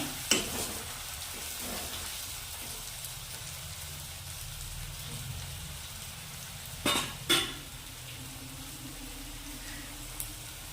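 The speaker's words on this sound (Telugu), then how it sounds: "ఆలు వేయండి. కొంచెం ఆయిల్లోనే ఫ్రై అయినట్టు కావాలి." Potatoes fry in hot oil in a pan for a meal maker curry, giving a steady soft sizzle throughout with a couple of brief louder stirring clatters.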